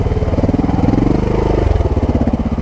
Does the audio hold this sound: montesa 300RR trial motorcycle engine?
yes